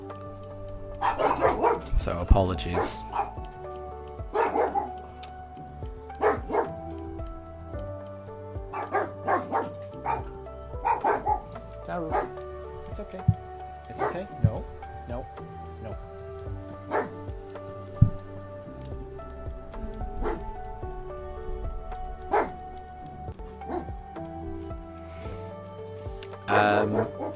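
Pet dogs bark indoors in repeated loud bursts, with yips and whimpers between them, reacting to an unfamiliar noise outside while someone speaks to settle them.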